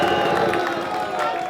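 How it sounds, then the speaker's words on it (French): An audience at a ceremony applauding and cheering, a dense wash of crowd noise with clapping and some shouts, moderately loud and continuous, with voices mixed in. "On applaudit encore très très fort"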